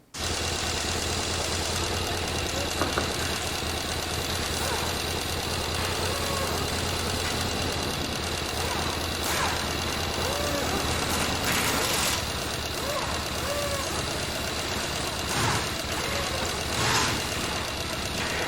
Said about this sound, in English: Now I'm going to take it back out to my belt sander and sand it to those dimensions.